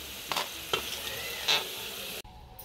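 Okra tikkis fry in a pan of hot oil with a steady, even sizzle and occasional light clinks from a utensil, close by, before the sound cuts abruptly near the end.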